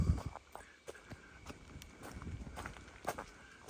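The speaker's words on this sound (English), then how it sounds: "I can hear footsteps." Footsteps crunching along a bush walking trail, a steady sequence of close, fairly quiet steps with light scuffing between them and no talking.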